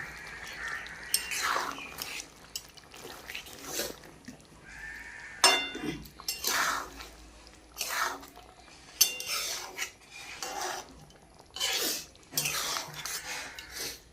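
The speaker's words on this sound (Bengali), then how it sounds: "ভালো করে এখন নেড়ে ছেড়ে দেবো" A fish, potato and eggplant curry with cumin paste is stirred in a pan: repeated scraping and clinking strokes of a utensil against the metal come in irregular bursts with quiet gaps between them.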